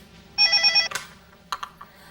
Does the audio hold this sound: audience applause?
no